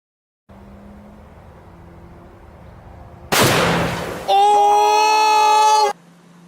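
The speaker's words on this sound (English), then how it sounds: "what happens when you shoot at smaller calibers" A small-caliber rifle shot into a block of dry ice bursts out as one sharp loud crack after a low hum, followed by a sustained harsh whistling hiss with strong tones that cuts off abruptly.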